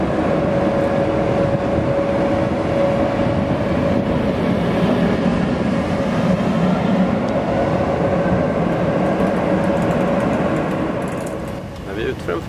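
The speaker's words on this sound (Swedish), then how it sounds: "Lokföraren har fått klartecken från fjärrtågklareraren och kör iväg med loket." Locomotive pulling away from a terminal station, a steady, loud rumble with a sustained tonal hum from the engine that holds for most of the stretch, then eases slightly toward the end as it moves off.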